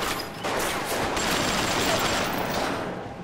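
Dense, sustained automatic gunfire in the shooter game Bioshock, a loud continuous rattling fusillade that runs nearly unbroken for a few seconds before easing off at the end.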